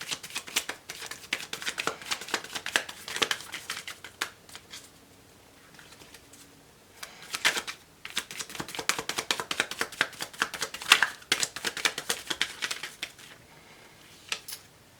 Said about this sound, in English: So let's get one more card.